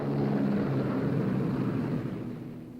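Heavy wartime Boeing B-17 bomber landing bumpily with an injured pilot, a loud broadband engine roar that holds steady and then fades away toward the end, with no talk.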